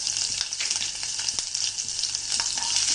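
Chopped ginger, slit green chillies and fenugreek seeds with asafoetida stirred in hot oil in a pan for a Sindhi tomato curry, giving a steady close sizzle with a few soft scrapes of the spoon and no talking.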